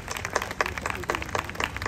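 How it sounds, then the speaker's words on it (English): Steady applause from an audience at a G20 event in India, a dense patter of many hands clapping continuously at moderate volume with no pauses. "Ladies and gentlemen, a big round of applause as we invite"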